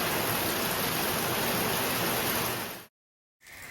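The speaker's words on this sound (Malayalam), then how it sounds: "നല്ല മഴ തുടങ്ങിയിട്ടുണ്ട്." Heavy rain falling outside a house, a loud, dense and steady wash of noise that continues for about three seconds before cutting out abruptly.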